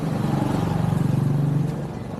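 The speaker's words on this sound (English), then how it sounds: "I'll wait till these scooters go by." Motor scooters pass by on a street, making a steady, fairly close engine drone with a throbbing pulse that eases slightly toward the end. No one speaks.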